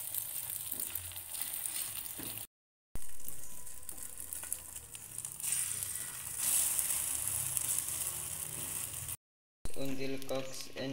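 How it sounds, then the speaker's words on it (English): Egg omelette mixture frying in a hot Teflon pan over medium heat, a steady bright sizzle that continues throughout with brief cuts in the sound, while a voice talks over it. "Eggs are ready to be fried."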